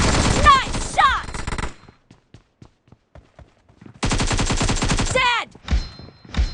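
Rapid gunfire in the mobile battle game PUBG Mobile, two dense bursts of shots with a quieter stretch of scattered single shots between them, loud and close.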